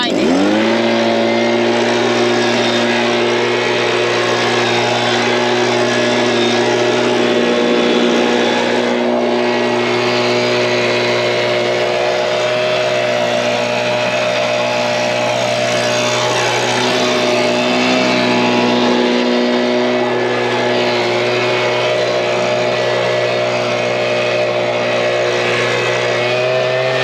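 A gas leaf blower, either a Stihl BG 86 two-stroke or a Makita BHX 2500 four-stroke, runs loud and close at a steady high whine, the engine pitch dipping and rising slightly as it holds throttle throughout.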